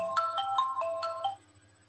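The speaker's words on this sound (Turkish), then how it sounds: "Çok özür dilerim, bu telefonu da kapatayım da ben biraz sessiz alayım." A mobile phone ringtone plays a quick melodic phrase of bright repeated tones, faint and alone, during a talk on fire safety in historic buildings.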